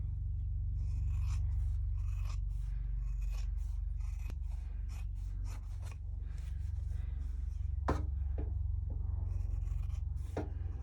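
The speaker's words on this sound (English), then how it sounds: "You hear these scissors? No trouble whatsoever." Kai scissors slicing through several layers of fabric, a series of crisp snipping and scraping strokes close up over a low steady background hum.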